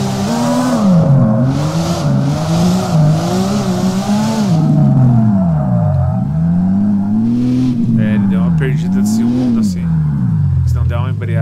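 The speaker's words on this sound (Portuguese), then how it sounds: "Dar uma volta com ele. Ele tá com o motor aspirado" A car with a naturally aspirated engine pulls away and accelerates hard, its engine note rising and falling through repeated revs and gear changes, loud and close throughout, with people talking over it.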